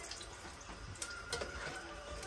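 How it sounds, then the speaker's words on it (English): Water drains and splashes off boiled deer bacon into a sink, a steady faint pouring trickle with small drips, close and without talk. "I'm going to drain the water off of it"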